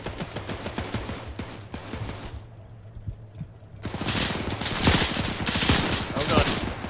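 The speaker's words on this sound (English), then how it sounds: "That's a fucking machine gunner on the second floor." A machine gunner firing from a second-floor window in a D-Day airborne video game, with rapid rattling bursts of shots that pause briefly and then return louder and denser, close by, with voices speaking intermittently.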